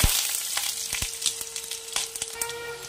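Whole garam masala and cumin seeds sizzle and crackle in hot oil in a pan while palak paneer is being cooked. The close, steady frying hiss is punctuated by sharp pops and spits.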